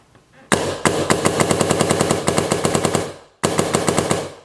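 A 2010 DM10 paintball marker fitted with a long suppressor fires a rapid string of sharp, evenly spaced pops, loud and close, pausing briefly before a second burst.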